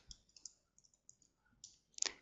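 A few faint, sharp mouse clicks spaced out in quiet while entering data into an Excel spreadsheet, ending with a quick cluster of louder clicks and key presses nearby.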